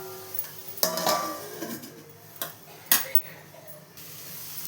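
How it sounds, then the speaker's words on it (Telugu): Food in a pot is stirred with a utensil, giving a few sharp metallic clinks and scrapes at irregular intervals over a low background hiss, close by and moderately loud. "మళ్ళీ ఒకసారి కలి తీసుకొని మూత పెట్టేసి"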